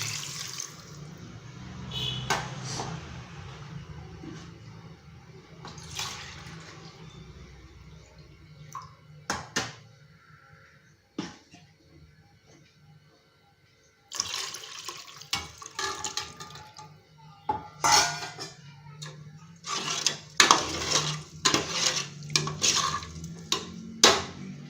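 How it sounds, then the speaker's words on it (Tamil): Water is poured into a cooking pot while making ghee rice: splashing, running streams broken by a short pause, with metallic clinks and clatter of the pot and utensils nearby. "இப்போது நம்ம கடைசியில் தண்ணி ஊற்றிடலாம்"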